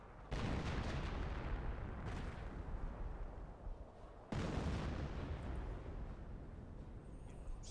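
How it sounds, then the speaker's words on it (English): A smoke artillery barrage in the strategy game Company of Heroes lands as loud, continuous rumbling booms that roll on without a break. Midway they cut out for a moment, then a fresh wave of blasts starts. "Putting a smoke barrage down so they can see that."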